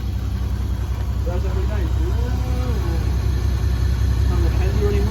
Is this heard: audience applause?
no